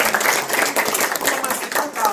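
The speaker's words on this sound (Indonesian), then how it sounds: "Tepuk tangan dong, betul." Audience clapping fills a room at an Indonesian direct-selling business seminar, a dense steady patter of many hands with voices mixed in.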